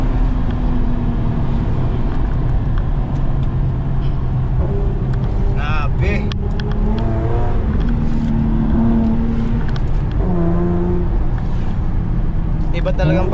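A V6 car engine revs hard and accelerates during a night test run, a loud, continuous roar with rising and falling pitch sweeps, while excited voices talk and shout over it throughout.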